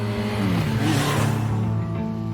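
A motorbike engine drones and shifts pitch as the bike glides through a city at night in an anime scene, with a steady, loud rising-and-falling tone over music.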